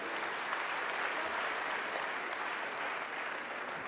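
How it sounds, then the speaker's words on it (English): Audience applause following a sung performance at a night of tributes, a steady dense wash of clapping from a crowd that holds at an even level throughout without fading. "Another round of applause for Esther Benyeogo, everyone."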